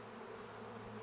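A swarm of roughly 20,000 honey bees hums in a continuous, low, steady drone, faint but unbroken throughout the brief moment.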